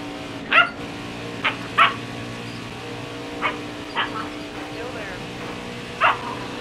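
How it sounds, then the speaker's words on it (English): An agitated dog barks about six times in sharp, separate bursts spread over several seconds, fairly close and loud over a steady low background hum. "This dog is pissed."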